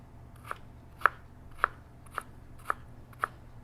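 Knife slicing through an onion into thin strips on a cutting board, six crisp, evenly spaced cuts about half a second apart, close and clear over a faint low hum.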